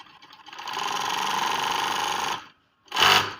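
An overlock sewing machine runs fast through fabric with a steady, dense mechanical whir for about two seconds, then stops briefly before another short burst of running; the fabric is jamming and the stitching is spoiling it.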